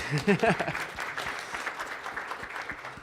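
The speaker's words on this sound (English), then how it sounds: "Let's give her a round of applause." Applause from an audience at a youth engagement event breaks out after a brief voice at the start, a moderate, fairly steady patter of clapping that continues to the end.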